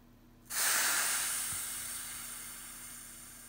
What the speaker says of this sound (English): Listen for the hiss.